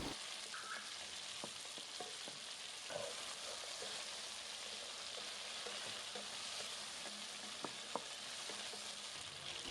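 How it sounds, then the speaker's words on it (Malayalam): Chicken karahi stir-frying in a pan with turmeric and pepper powder, a quiet steady sizzle with occasional soft scrapes and taps of a spoon stirring, no voices. "ആദ്യമേ മഞ്ഞൾപ്പൊടിയും കുരുമുളക് പൊടിയും ചേർത്ത് 5 മിനിറ്റ് നമ്മൾ ഇതേപോലെ ഒന്ന് ഫ്രൈ ചെയ്ത്"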